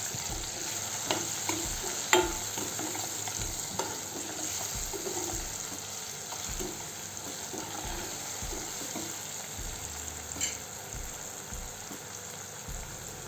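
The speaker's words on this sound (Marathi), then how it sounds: "तिखट अर्धा चम्मच, मीठ अर्धा चम्मच, चांगल्याने हलवून घेऊ" Val bean pods frying in a pan as chili powder and salt are stirred in: a steady sizzle throughout with repeated soft scraping strokes of a spoon, close and moderately loud, with no voices.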